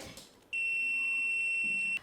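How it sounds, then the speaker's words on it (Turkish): A single shrill electronic buzzer tone from a flame sensor alarm, triggered by a small flame, sounds steadily for about one and a half seconds, loud and close, then cuts off. "alev sensörümüz ufak bir alev bile algıladığında buzzer'ımız öttü"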